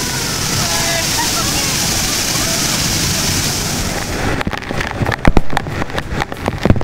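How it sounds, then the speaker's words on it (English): A waterfall along the Ayung River in Bali pours in a loud, steady rush, then gives way to choppy splashing and sloshing near the end. "Waterfall along the river where you can get a free massage."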